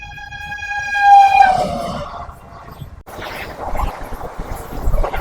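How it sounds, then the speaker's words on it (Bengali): The Ranchi-Howrah Intercity superfast express arriving at Jhalida station sounds a long, loud horn blast, then rolls and clatters over the rails nearby as the wagons rumble past. "ট্রেন এখন এসে পৌঁছেছে ঝালিদা স্টেশন"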